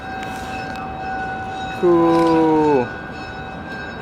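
A train at the main Old Sacramento station sounds its horn once, a loud chord about a second long over a steady background hum, with a brief spoken remark nearby.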